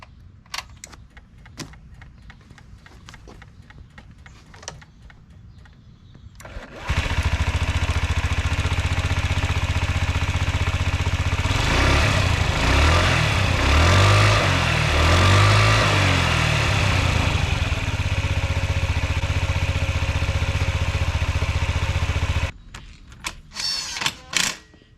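Honda Ruckus scooter after a fuel top-up, quiet handling noises, then the small engine fires and idles loudly and steadily for about fifteen seconds before shutting off.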